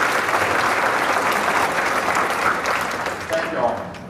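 Banquet guests at a chamber of commerce dinner give a sustained round of applause, a steady, fairly loud wash of clapping that dips briefly near the end.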